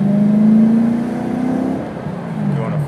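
A BMW accelerates under load, engine pitch climbing, then briefly dropping as it shifts up a gear before rising again; a loud, close in-car engine drone with no talk.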